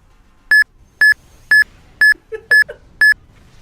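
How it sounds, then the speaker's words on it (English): Six evenly spaced electronic beeps, each a short bright tone, ring out in a steady rhythm about half a second apart, with a faint soft blip between the later ones, a random beeps sound effect redeemed by a stream viewer. "Stacks, your random beeps are on the way"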